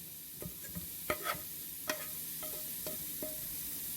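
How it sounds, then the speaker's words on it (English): Vegetables are scraped onto a paper plate in a few distinct, close scrapes and taps spaced irregularly over a low steady background, no talking. "I take the veggies and I scrape them onto the plate."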